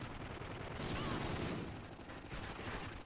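AK-12 gunfire in Call of Duty Ghosts: a dense, sustained burst of rapid automatic shots that stays loud and continuous throughout, with game action filling the background.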